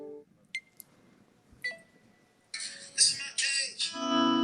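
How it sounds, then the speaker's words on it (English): A phone camera's timer counts down with a few separate electronic beeps spaced about a second apart, followed by a burst of louder, denser clicking and chiming tones. Faint background murmur sits underneath. "Mine's on a 3-second countdown. So it'll go click, click, click."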